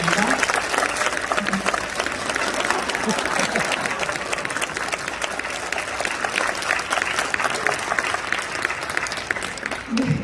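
Sustained applause from an audience at a school graduation ceremony, a dense, steady patter of many hands clapping for a student's graduation film, continuing evenly for the whole stretch before tapering at the end.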